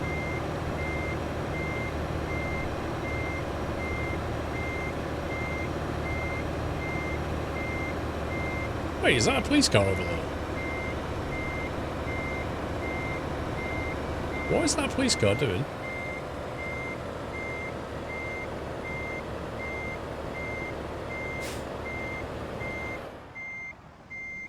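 A truck reversing in a trucking simulation gives off steady, evenly spaced electronic beeps that run throughout over a constant engine drone. Two short bursts of hissing air brakes cut in, and someone talks over it.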